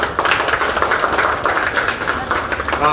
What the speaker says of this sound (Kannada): ಕರ್ನಾಟಕ ರೈತ ಮಕ್ಕಳು ಎಲ್ಲ ಚಪ್ಪಾಳೆ ಹೊಡಿ